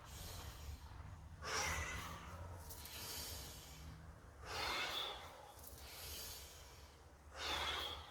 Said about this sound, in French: On expire bien à fond et on relâche bien à fond.